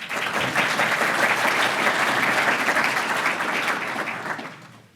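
Audience in a hall at the 2019 Roseville State of the City Address claps loudly and steadily, a full round of applause that holds for several seconds and then fades out quickly at the end.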